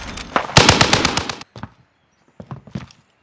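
Gunfire in Call of Duty: Warzone, an MG42 light machine gun among the weapons: a dense burst of rapid shots for about a second, then a few scattered single cracks and short bursts, loud and close.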